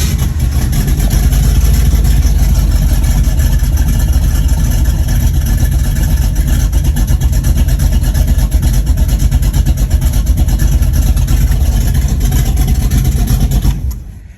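A 1969 Ford Mustang, back on the road after sitting for 15 years, runs close by with a loud, steady rumble that holds unbroken for the whole stretch before cutting off at the end.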